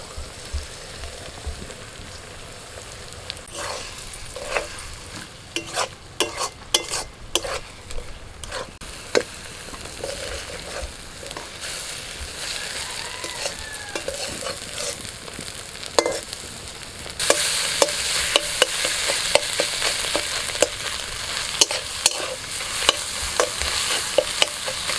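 Beaten eggs scramble in a hot pan, crackling and sizzling steadily while a spatula scrapes and stirs in quick irregular strokes, the frying growing louder and denser toward the end, no voices.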